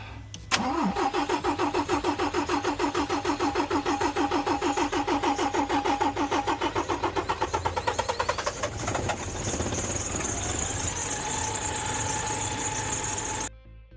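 An Irizar coach's engine cranks with a rapid, rhythmic starter chug for roughly eight seconds before catching and settling into a loud, steady running note that continues until just before the end.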